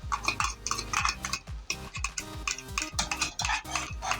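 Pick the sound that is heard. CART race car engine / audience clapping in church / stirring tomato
stirring tomato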